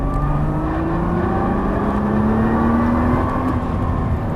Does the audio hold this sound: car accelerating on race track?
yes